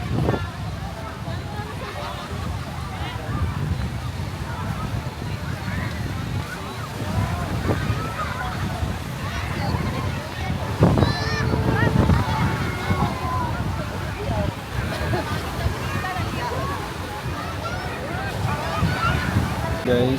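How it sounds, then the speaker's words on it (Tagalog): Sea waves washing steadily around a boat while island hopping off Zambales, a continuous rushing slosh with wind buffeting the microphone and voices chatting over it. "Ganda guys ng dagat."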